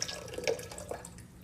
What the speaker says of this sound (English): I'm pouring the water back.